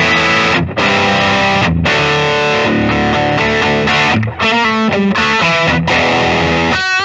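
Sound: Gibson Slash Les Paul Standard electric guitar played plugged in

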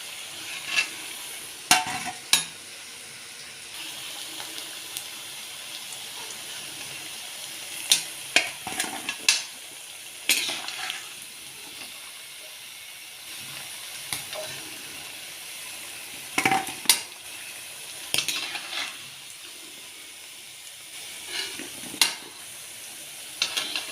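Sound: potatoes frying in a kadai (wok) for dum aloo

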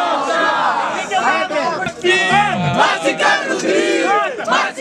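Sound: crowd cheering at a freestyle rap battle

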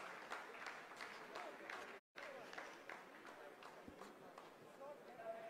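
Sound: applause by scientists at Chandrayaan-3 mission control

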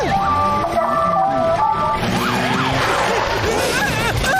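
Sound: police motorcycle siren

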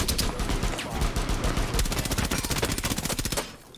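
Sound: gunfire shooting a hole, Rainbow Six Siege Consulate (video game)

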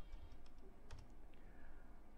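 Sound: typing on a computer keyboard

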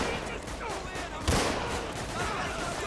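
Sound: gunfire and shotgun shots in GTA 5 video game

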